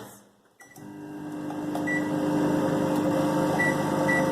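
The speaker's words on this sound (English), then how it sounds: "Now we will bake it in the microwave for 5 minutes." A microwave oven baking a chocolate sponge cake on normal mode hums steadily after a click, its low electrical drone running continuously and fairly loud, with a faint high tone near the end.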